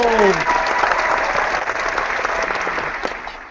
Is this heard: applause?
yes